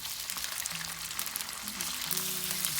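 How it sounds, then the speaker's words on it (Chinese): Thin beef slices hit a wok holding a generous pool of barely warm oil, giving a steady close sizzle and hiss that fries on with no pauses and no talk. "另起锅，放入平时炒菜3到4倍的油，油微热，放入牛肉片"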